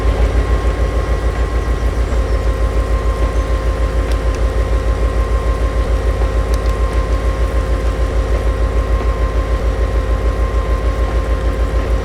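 A roughly 2,000-horsepower diesel-electric locomotive in a train simulator game rumbles with a steady, pulsing low engine throb and a faint mechanical hum, close and loud throughout with no talking.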